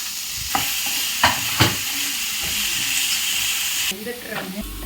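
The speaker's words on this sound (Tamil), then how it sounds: "வெங்காயம் ஓரளவுக்கு பாதி வதங்கணும்" Onions sautéing in a pan for bottle gourd adai, a continuous hiss of frying with a few distinct clinks and scrapes of a spoon stirring, close and fairly loud.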